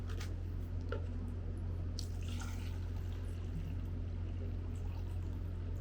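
Water poured back into a cup during a simple physics experiment with a ping-pong ball, heard as close splashing and dripping trickles over a steady background hum, with no voices.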